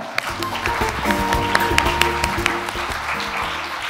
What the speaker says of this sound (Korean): 여러분 박수로 한번 부탁드려 볼까요?